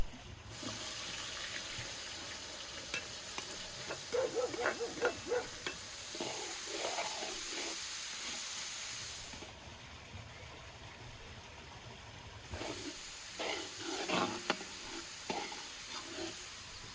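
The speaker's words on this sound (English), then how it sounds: "Now, let's roast some onions." Onions roast in a pan for a beef stew, a soft continuous sizzle with scattered stirring clatters, a short quieter stretch midway, then more stirring.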